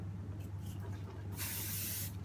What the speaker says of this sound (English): And then I fix spray.